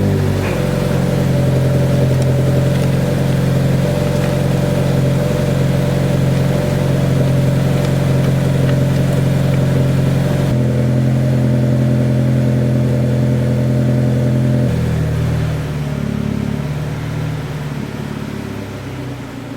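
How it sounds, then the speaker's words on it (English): A Toyota GR86 engine running at a steady, loud idle with a low hum that shifts in pitch partway through and settles lower near the end. "let's turn the car on"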